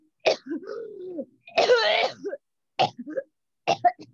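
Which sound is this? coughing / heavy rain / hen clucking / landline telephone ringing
coughing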